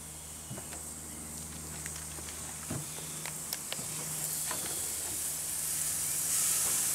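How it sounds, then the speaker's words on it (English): Burgers sizzle on a hot charcoal grill, a steady quiet hiss with scattered crackles and pops that slowly swells louder, a low hum running beneath it. "Burgers are on the grill and they're just cooking away quite nicely"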